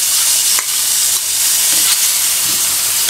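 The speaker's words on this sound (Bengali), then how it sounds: "এবারে এই তেলে আমি পেঁয়াজ বাটা লঙ্কা বাটা একসাথে দিয়ে দিচ্ছি।" Onion paste and chilli paste sizzle loudly in hot oil, a close, bright continuous frying hiss punctuated by a few soft stirring scrapes, with no voices.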